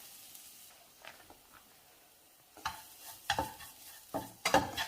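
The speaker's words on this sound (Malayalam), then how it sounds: "ആ ചൂടായ പാനിലേക്ക് തേങ്ങ ചേർക്കാം" Grated coconut roasting in a hot pan over medium-low flame, quiet at first, then louder bursts of spatula stirring and light sizzling in irregular strokes, close and without talk.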